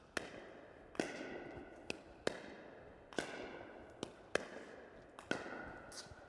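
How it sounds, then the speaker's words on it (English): Pickleball paddles strike the ball in a steady rally of push dinks, about eight sharp, hollow pocks spaced roughly a second apart, each ringing briefly in a quiet outdoor setting. "I'm going to push and get the ball close to his feet."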